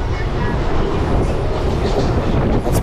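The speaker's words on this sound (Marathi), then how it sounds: "टाईममध्ये 11:28 आहे ना ट्रेन सुटलेली आहे." A Mumbai local train runs over the Vashi creek bridge in heavy rain. Its loud, steady rumble and wheel clatter fill the whole stretch without a break.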